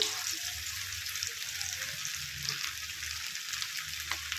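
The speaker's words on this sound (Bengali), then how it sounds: "এবার আমি ব্যাটারটা দিয়ে ব্যাটারটা সমেত কোট করা মাছটা আমি দিয়ে দিচ্ছি" Batter-coated fish fries in hot oil with a steady, soft crackling hiss, fairly close and even, with a low background rumble beneath and no clear talk.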